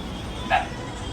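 A single short dog yip rises briefly out of a quiet background hum, somewhat distant and over almost as soon as it starts.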